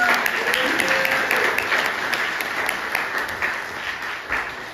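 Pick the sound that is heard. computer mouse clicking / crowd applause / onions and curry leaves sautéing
crowd applause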